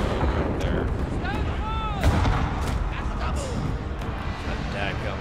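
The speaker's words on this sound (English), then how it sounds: "That dadgum artillery would stop firing" Artillery fire booms across a Shogun 2 Total War Fall of the Samurai battlefield, with repeated broadband blasts under overlapping battle shouts and voices throughout.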